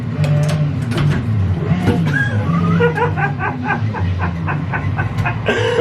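Sauber Mercedes C9 Group C race car in the Assetto Corsa racing game, its engine droning steadily and loudly through braking and a chicane, with rapid rhythmic pulses from downshifts and revs and no talk over it.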